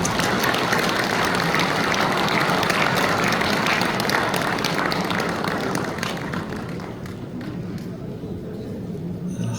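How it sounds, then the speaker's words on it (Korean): A church assembly gives loud, sustained applause for a pastor coming forward to lecture, dense and even before tapering slightly toward the end. "여러분께서 뜨거운 박수 부탁드리겠습니다."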